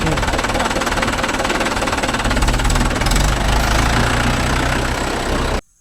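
A Mahindra tractor diesel engine runs steadily close by with a heavy, knocking idle rhythm, loud throughout before cutting off abruptly near the end.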